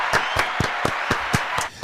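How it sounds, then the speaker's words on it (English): An audience at a live ALTBAYS show claps in unison, sharp evenly spaced claps in a steady rhythm, about eight beats, fairly close and loud with no talking over them. "Can we have some claps for this?"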